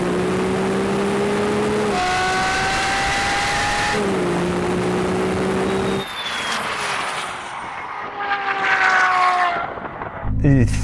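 Ferrari 812 with its V12 accelerating hard off the line in a drag race, loud rising engine tones stepping up through several gear changes, then fading as other engine sounds follow, with voices faint underneath.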